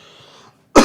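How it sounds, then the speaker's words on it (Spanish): A single sharp, close cough bursts out after a brief quiet moment. "haber bajado el canal de voz para toser"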